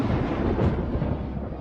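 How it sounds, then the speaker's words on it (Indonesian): Cartoon thunderstorm thunder sound effect, a continuous low rumbling roll that swells slightly midway and holds steady throughout, loud and close with no voices over it. "Badai petir, di depan!"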